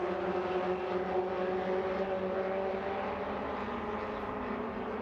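MRF2000 open-wheel race cars sprint along a circuit toward a pair of corners, giving off a steady, high-pitched engine drone with clear harmonics that stays at an even level.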